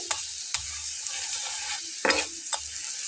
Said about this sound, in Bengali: ঠিক আমি এভাবে লাল করেই ভেজে নেব একটু চেপে চেপে